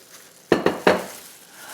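A fork beating seasonings into flour in a bowl while preparing walnut-crusted sea scallops: three quick, close clinks and scrapes in a short burst, then quiet.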